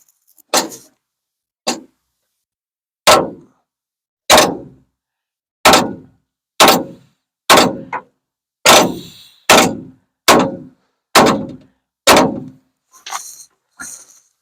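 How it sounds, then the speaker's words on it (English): About thirteen sharp metallic hammer strikes peening a metal pin on a Ford F1 door check, spaced roughly a second apart with ringing decay, the last few lighter and quicker. "We'll get our hammers for our peening."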